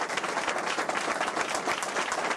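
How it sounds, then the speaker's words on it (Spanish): Dense, steady audience applause at a union homage ceremony and book presentation, many hands clapping loudly and continuously throughout with no voices over it. "Yo les quiero pedir un aplauso"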